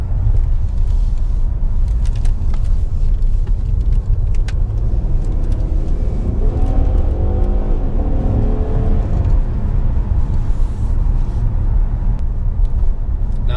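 A 2016 Ford Taurus SHO Performance Package with a 3.5L twin-turbo EcoBoost V6 drives on the road with a steady, loud engine rumble and road noise. The tone rises as it accelerates partway through.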